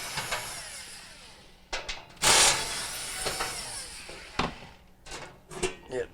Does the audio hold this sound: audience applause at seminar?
no